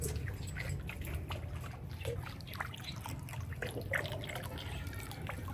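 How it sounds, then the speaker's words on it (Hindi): Sikanjbeen sharbat syrup is poured into a drink already holding lemon juice and peel, making a thin, steady liquid trickle that runs quietly and evenly throughout with no talk. "और अब इसमें ये मजेदार किस्म का स्किन जबीन का शरबत भी डालेंगे।"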